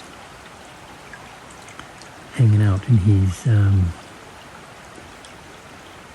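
A creek flows with a steady, soft rush of water throughout. Someone speaks briefly over it at close range.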